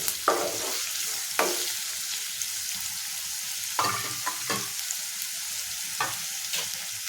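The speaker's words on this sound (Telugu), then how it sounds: "బాగా మూత పెట్టుకుని బాగా వేపించుకుందాం" Sliced onions frying under a lid in a pan for a green bean and dried prawn curry, giving a constant bright sizzle. Several louder scraping stirs break through at intervals, close and without voices.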